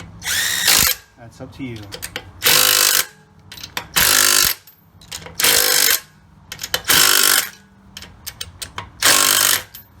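Bolts cranked down with a ratchet on a 2008 Lincoln MKX during parking brake work, loud repeated bursts of ratcheting clicks in quick strokes, with someone talking briefly between them.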